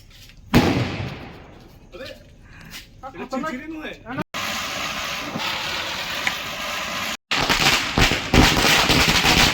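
Diwali firecrackers burst at a festive night celebration. Sharp crackling blasts and rattling bursts come near and far, with voices and background commotion between them.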